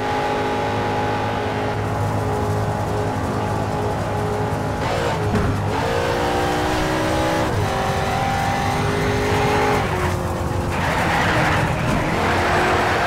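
A racing car laps a track in Need for Speed: Shift, its engine loud and close as it revs and drops through gear changes, with tyres squealing in skids through the corners.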